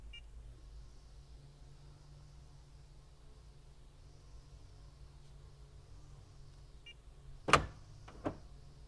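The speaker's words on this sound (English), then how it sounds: "I just locked all the doors." A 2025-era Honda's power door locks actuating, one sharp mechanical clunk followed shortly by a second smaller one, heard close after a long stretch of quiet car-interior hum.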